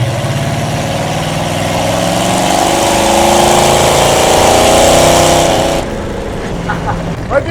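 Loud, rough engine of a 1934 Plymouth rat rod running steadily, swelling slightly for several seconds before cutting abruptly to a quieter background.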